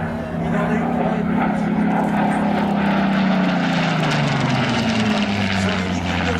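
A propeller airplane flies overhead at an air show meeting in Pontoise, its engine drone loud and steady with a pitch that slowly falls as it passes.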